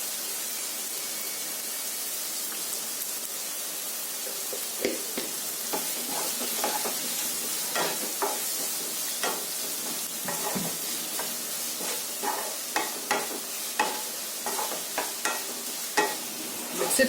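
Onions with a little salt fry in a pan for Kerala-style egg curry with coconut milk, giving a steady close sizzle broken by frequent clicks and scrapes of a spoon stirring.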